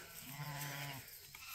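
A single short bleat from goats and sheep kept together on brushy wooded pasture, faint and somewhat distant, lasting about a second amid quiet outdoor background.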